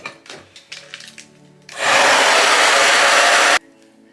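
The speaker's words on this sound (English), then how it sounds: "Then I'm gonna go in with my blow dryer to dry" Blow dryer switches on with a loud broadband whoosh for about two seconds while drying the inside of a hair wig install, then cuts off abruptly; soft handling taps come before it.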